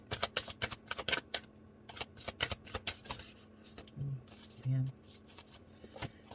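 Tarot cards being shuffled and flipped, with quick crisp riffling and snapping flicks in clustered bursts, close and fairly soft, while someone speaks briefly.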